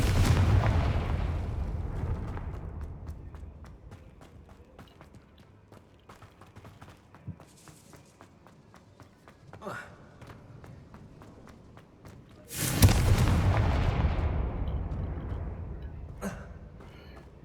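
Confringo fire spell in Hogwarts Legacy, two booming explosive blasts, one early and a louder one near the end, each followed by a decaying rumble, with quieter clicks and impacts between them.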